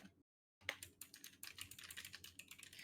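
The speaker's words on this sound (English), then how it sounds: "that's just my giant long nails on a very clacky keyboard" Long fingernails typing on a very clacky computer keyboard, a fast irregular stream of sharp close clicks after a brief silence, moderately quiet and alone.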